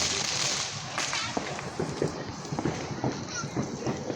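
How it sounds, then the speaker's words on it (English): Fourth of July fireworks going off outdoors, a string of sharp cracks and pops scattered over a steady background hiss, fairly distant, with some voices murmuring in between. "Don't know where these fireworks are coming from"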